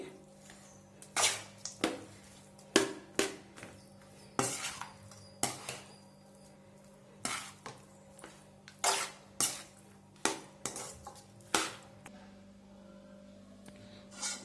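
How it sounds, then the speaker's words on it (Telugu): A utensil scrapes and clinks against a steel pot or bowl while cooked rice is mixed with tamarind pulihora paste, a series of sharp, fairly close knocks at irregular intervals over a quiet background. "బాగా ఈ రైస్కి ఈ పులుపు అంతా మనం చేసుకున్నాం కదండి పులిహోర పులుపు బాగా కలిసే విధంగా కలుపుకుందామండి రైస్ని"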